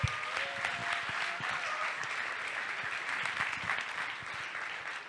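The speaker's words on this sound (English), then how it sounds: "So a round of applause for him." Audience applause fills a convention closing ceremony, a steady dense clapping from a large crowd lasting throughout without a break.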